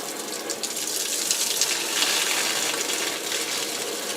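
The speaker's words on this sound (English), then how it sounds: "I'm going to turn the cold water on to start running the water through the softener" Cold water runs steadily from a faucet, flushing through a water softener and tankless water heater system, a continuous broadband rushing hiss at close range with no talk.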